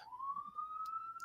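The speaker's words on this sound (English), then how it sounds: "You can still hear the sirens" Police siren wailing on a New York street, a faint and distant tone rising slowly and steadily in pitch, with brief bursts of street noise breaking in near the end.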